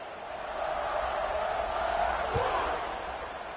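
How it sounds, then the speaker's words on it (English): Stadium crowd in a college football video game, Penn State versus LSU on a kickoff, a broad steady roar swelling slightly in the middle, with one brief thump near the end. "this crowd is feeling themselves after that last drive"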